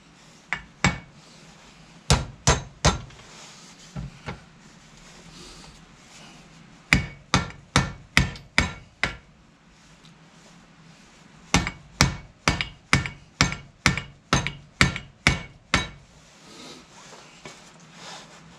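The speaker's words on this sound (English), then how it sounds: "I've got a bolt and a hammer, that's what I use." A hammer strikes a bolt to drive in a brake anchor peg while fitting new brake shoe linings. The sharp metallic blows come in quick rhythmic runs of several hits each, loud and close, with pauses between the runs.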